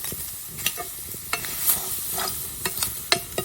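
Fish frying in a dry pan with no oil, the quick way without masala powder or ground paste: a soft, steady sizzle broken by scattered spatula scrapes and taps, close by and with no voices.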